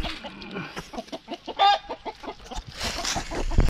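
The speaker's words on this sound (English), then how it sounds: "Yeah, you can see the chickens out here, guys." Chickens cluck in a coop outdoors on a homestead, a rapid series of short, close, loud clucks with a brief squawk in the middle and rustling toward the end.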